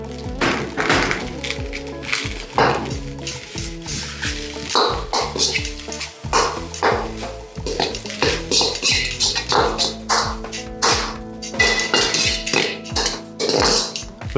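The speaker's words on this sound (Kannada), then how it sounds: "ಅದಕ್ಕೆ ಬ್ರಾಕ್ಲಿ ಕಟ್ ಮಾಡಿ ಇಟ್ಕೊಂಡಿದ್ನೋ ಅದನ್ನು ಹಾಕ್ಕೊತಾ ಇದ್ದೀನಿ" Chopped broccoli tipped into egg fried rice in a pan, bringing a steady run of clinks, thunks and scraping of utensil against metal pan over a sizzling bed, close and busy throughout.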